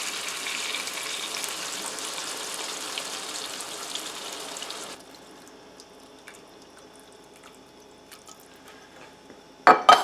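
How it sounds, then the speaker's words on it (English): Beef broth is poured over meatballs in a pan with a steady soft liquid patter and sizzle for about five seconds, then faint drips and small clinks follow, ending with a brief louder clatter. "I take the beef broth and I pour it over each meatball"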